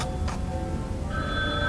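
A telephone rings in an indoor office, its tone steady and moderately loud over a low background hum, with a brighter ringing tone entering partway through.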